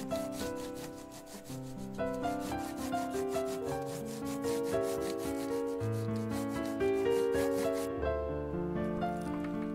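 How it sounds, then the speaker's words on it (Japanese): A crayon is rubbed over paper to make a paper sunflower, giving repeated scratchy strokes under background music. "90度方向を変えて、違った色でもう一度こすり出しをすると"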